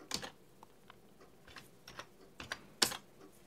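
Someone types on a computer keyboard while working with a micro-USB relay module: scattered, uneven keystrokes, a few louder clacks among lighter taps, close by in a quiet room.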